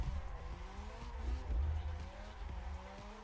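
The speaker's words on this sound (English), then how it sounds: "I'm still drifting." A car drifts in the racing game Assetto Corsa, its engine droning steadily under sustained tire squeal with rising and falling pitch, with no talking.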